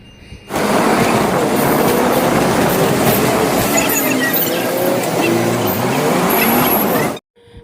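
Steady loud rumble and rattle of a moving city bus heard from inside, continuous throughout with no talking.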